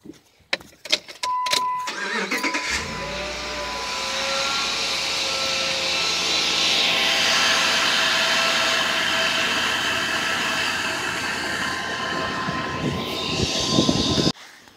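A few clicks, then an engine cranks and catches, settling into a steady loud idle that runs for several seconds before shutting off.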